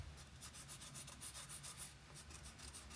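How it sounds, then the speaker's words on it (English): A putty eraser dabs and rubs lightly on drawing paper over a coloured pencil sketch of a pinecone, making a steady run of soft, close scratchy pulses. "So let's just give this again a little bit of a dab with the putty eraser."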